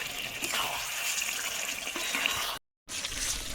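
Water is poured into a pan of cauliflower, potato and spices for a rohu fish curry. It is a steady, close running splash that stops briefly and then resumes.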